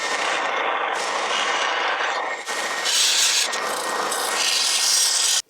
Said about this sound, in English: I'm going to use my belt sander.